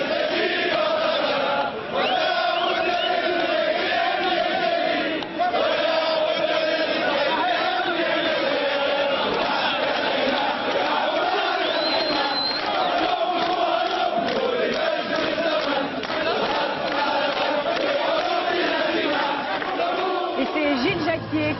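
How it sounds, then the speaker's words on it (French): A large crowd in Tunisia in January 2011 sings the Tunisian national anthem together, a dense, loud, sustained chorus of many voices filling the whole stretch with a continuous tuneful swell. "La foule entonne l'hymne national tunisien."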